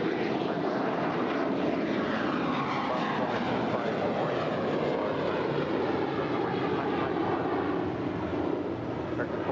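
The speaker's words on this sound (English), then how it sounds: "That is Valaris, flight 916, coming in from Guadalajara. It's an A321 Neo." A Volaris Airbus A321neo arrives from Guadalajara at Los Angeles International, giving a loud, steady broadband jet roar that holds unbroken for the whole stretch, with no voices.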